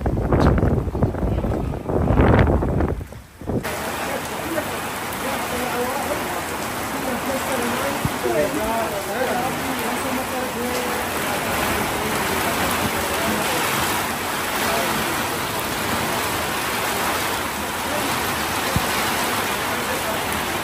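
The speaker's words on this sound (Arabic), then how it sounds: "بعد هاي المطرة القوية" Heavy rain pours down at a workplace, a dense, steady hiss that fills the whole stretch after a brief louder noise at the start.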